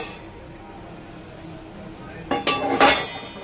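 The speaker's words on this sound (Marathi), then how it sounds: "आता मी प्लेट काढून घेते" Plates and dishes clink together near the end as one is taken out after cooking cluster beans with green chillies, a few bright clatters following quiet kitchen background.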